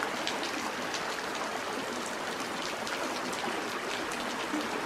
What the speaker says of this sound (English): Further I go up this little side stream, the taller the waterfalls get.